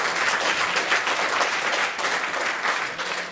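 Steady, loud audience applause at a technical conference talk, a dense wash of many hands clapping for the event volunteers, continuous throughout.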